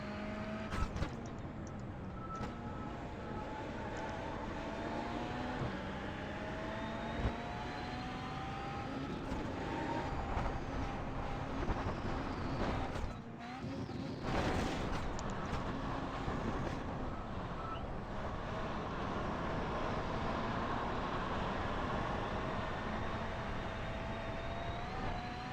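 A Beetle Lite rallycross car lapping in the iRacing game, its engine droning continuously with rising and falling pitch through gear changes, steady and close throughout with a brief dip in the middle.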